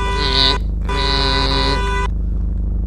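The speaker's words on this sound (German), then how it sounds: "Hupen kann ich auch hier, guck mal." A taxi horn in the VR game Taxi Life VR on Quest 3 gives two loud, close, steady honks, a short one and then a longer one, before it cuts off to quiet background hum.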